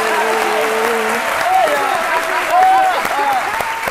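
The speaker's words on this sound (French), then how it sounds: "je vois Caroline applaudir comme ça" Studio audience at a French-language midday talk show applauding, sustained dense clapping that swells slightly mid-way, with voices and cheers riding over it.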